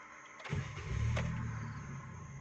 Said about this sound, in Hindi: देखिए कार स्टार्ट हो गई और पता भी नहीं चल रहा।